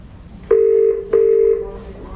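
A telephone rings twice during a meeting, two steady electronic tones each lasting about half a second, clear and fairly loud against quiet room noise.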